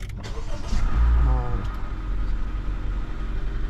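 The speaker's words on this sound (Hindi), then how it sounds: "बड़ी शोर कर रहा है इंजन, बड़ा शोर कर रहा है" A car engine runs loudly after starting up following a long idle period, with a heavy low rumble that swells early and then settles into a steady idle, alone without talk.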